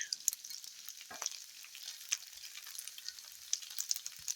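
Garlic bratwursts fry on a Blackstone griddle with a steady, faint close sizzle and occasional pops.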